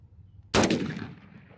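One loud gun report bursts out at an outdoor shooting range and rings off into a fading reverberant decay.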